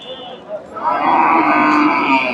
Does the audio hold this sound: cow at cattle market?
yes